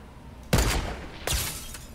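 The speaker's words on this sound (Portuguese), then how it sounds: "Ai, mano, acertei um tiro nele." Gunfire in the Fortnite video game comes as two sharp bursts about three-quarters of a second apart, each decaying into a brief rumble over a quiet game background.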